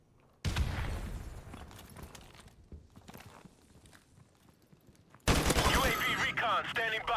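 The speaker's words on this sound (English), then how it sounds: "M60 is a beautiful gun, man, but it is hard to use sometimes." Bursts of M60 machine gun fire in Call of Duty Modern Warfare Remastered, a sustained loud burst opening the clip and another heavy volley near the end, with quieter game noise and footsteps between.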